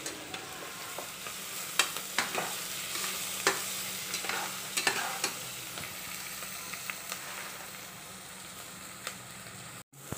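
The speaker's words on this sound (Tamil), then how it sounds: "வெங்காயம் நல்லா வதங்கி வந்துருச்சு." Onions sizzle steadily in a pan for mushroom biryani, with repeated scraping stirs of a spoon against the metal, recorded up close and heard alone.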